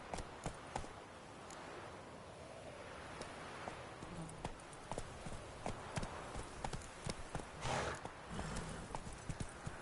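The horse Roach galloping in The Witcher 3, a rapid, steady run of hoofbeats close by that carries on through the whole stretch.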